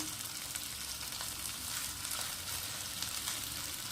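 Catla fish roe fritters fry slowly over low gas in oil, giving a soft, even, continuous sizzle close by with no voices and no breaks.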